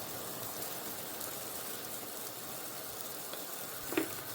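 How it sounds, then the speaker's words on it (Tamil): Tamarind water gently bubbling in a pan of Sri Lankan brinjal curry with chickpeas, a faint, steady sizzling simmer with a soft pop near the end, no talking. "நான் புளி விட்டது கொதிச்சு வருது சாதுவாக"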